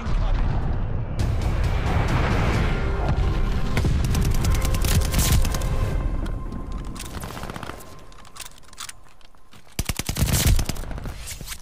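Glide bomb explosions in Call of Duty: Vanguard multiplayer, a dense loud barrage of blasts and gunfire that fades after several seconds before a final burst of shots.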